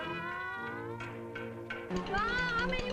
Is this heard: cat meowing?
yes